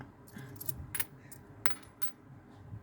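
Foreign coins, including dollar coins, are handled in a bag, giving faint, scattered metallic clinks and jingles in a few short bursts against a quiet background.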